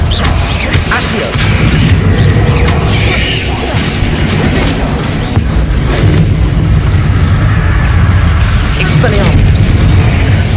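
Accio spell cast during combat in Hogwarts Legacy, amid loud, continuous booms, crashes and whooshing magical effects that fill the whole stretch with little pause.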